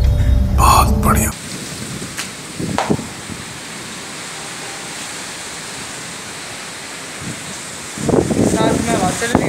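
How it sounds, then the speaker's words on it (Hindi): Heavy rain pours steadily with wind, thunder crackling loud at the start and returning near the end, broad hiss of rainfall filling the gaps between rumbles. "बारिश शुरू हो चुकी है।"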